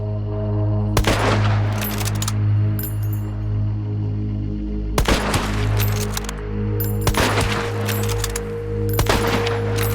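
Gunfire in the video game Hunt: Showdown, sharp loud shots arriving in a few separated bursts over a steady low ambient hum with faint background texture.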